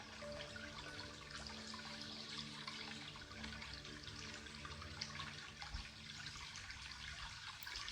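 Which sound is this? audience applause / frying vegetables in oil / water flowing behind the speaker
water flowing behind the speaker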